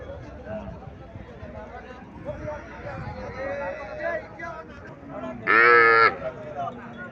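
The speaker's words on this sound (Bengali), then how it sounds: "এখানে একটা গাভী দেখা যাইতেছে" Cows at a busy cattle market in Cumilla, Bangladesh, including a Haryana cow, with one loud, drawn-out moo near the end standing out over steady crowd chatter and talking.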